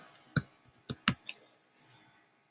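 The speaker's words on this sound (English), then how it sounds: "so I might type in dairy products" Typing on a computer keyboard while entering a section title in Google Forms: a short burst of crisp, close key clicks in an irregular rhythm, ending with a softer rustle, no speech.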